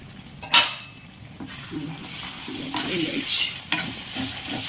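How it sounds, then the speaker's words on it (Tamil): Chicken gravy cooking in a pot with about one and a half glasses of water added, giving a steady close bubbling sizzle with scraping stirring strokes throughout. "ஒன்றரை கிளாஸ் தண்ணி ஊற்றிருக்கீங்கள சிக்கனை வேகிறதுக்கு கொஞ்ச நேரம் மூடி வைக்கணும்"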